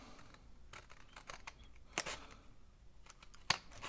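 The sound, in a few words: scissors cutting paper journal page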